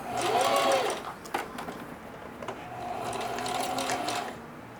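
A sewing machine stitching denim runs in two loud bursts of rapid whirring with mechanical ticking between them. The second run is steadier and more sustained.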